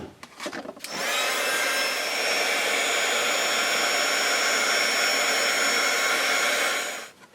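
A heat tool blows steadily, melting glitter embossing powder on a handmade chevron card: a loud, even whoosh with a faint whine starts abruptly after a few rustles and runs unbroken for several seconds before cutting off.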